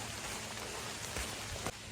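Steady rain pours down outdoors on a trek, a dense, even hiss of drops striking surfaces close by, with a couple of slightly heavier spatters near the end and no voices.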